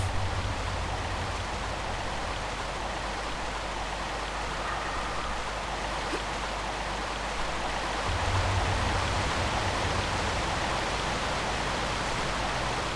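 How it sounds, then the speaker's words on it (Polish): Rushing waterfall in the 1996 Tomb Raider game's Lost Valley level, a loud, steady broadband roar of falling water lasting throughout with no speech. "Za tym wodospadem."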